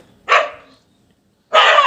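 Two sharp, loud barks separated by a brief silence, sounding like a voice imitating a dog.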